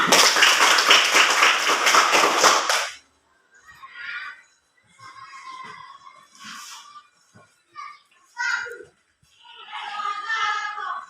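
A class of young students claps together in a quick, regular rhythm for about three seconds and then stops. Faint scattered children's voices and small movements follow in a quiet classroom.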